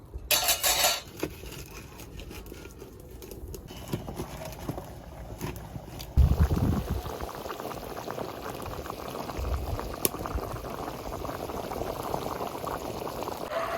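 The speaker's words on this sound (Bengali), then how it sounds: "জল দিয়ে দিয়েছি, কিন্তু এখন শুধু ফুটে ওঠার পালা।" Chicken curry broth with coriander leaves bubbles in a pot on the stove, a close, busy simmering that grows louder and more vigorous partway through, with a brief clatter at the start.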